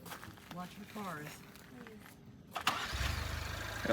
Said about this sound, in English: Why are you starting it back up again?